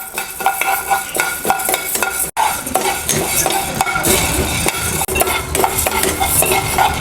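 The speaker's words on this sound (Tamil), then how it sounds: "பொன்னிறமாக ஆகிற வரைக்கும் வறுக்கிறோம்" Urad dal and chana dal dry roast in a pan for moringa podi, the lentils rattling and scraping as a spoon turns them in quick repeated strokes, loud and close, with a couple of brief breaks.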